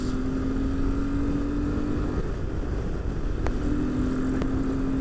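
A Royal Enfield Himalayan motorcycle engine pulls steadily under acceleration, a continuous droning note that shifts in pitch partway through, close and fairly loud with wind rush, no talk.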